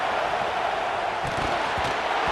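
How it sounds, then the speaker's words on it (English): Dense, steady roar of a stadium crowd in the College Football 26 video game, a constant broadband wash of massed voices holding at one loud level throughout. "Listen to this crowd noise. This stadium is vibrating."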